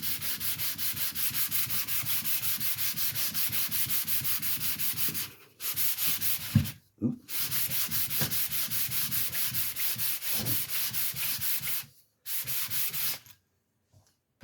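Rhythmic back-and-forth strokes of sandpaper rubbing flat wood for guitar-building tools, close and steady, broken by a few short pauses.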